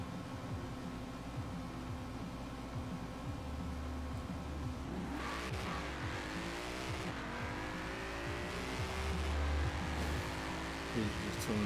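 Car engine in a Forza Horizon 4 drag race, an all-wheel-drive rival said to sound like a V12: steady engine drone with rising revs and gear changes, tire noise underneath, continuous and fairly loud.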